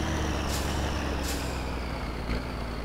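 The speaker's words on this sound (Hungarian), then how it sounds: "Fékezek, már kisodródik." A truck in My Summer Car brakes hard and slides sideways, giving a loud, continuous engine rumble with brief hissing bursts of brake noise and a dull knock near the end, with no talk.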